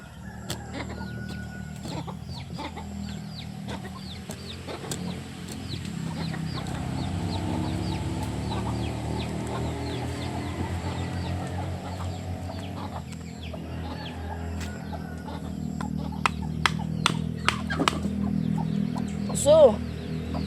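Chickens cluck softly and intermittently at a farm, mixed with steady background noise and a few sharp clicks, while a person talks nearby.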